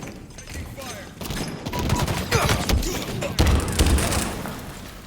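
Gunfire in Halo Infinite multiplayer: a steady rattle of shots with heavier thumps building over a few seconds, close and fairly loud amid game noise.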